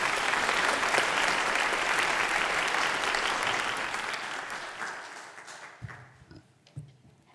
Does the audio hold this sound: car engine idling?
no